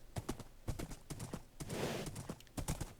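A horse clip-clops along in a video game, steady close hoof strikes in a quick rhythm with a brief softer rustling stretch partway through, no voices over it.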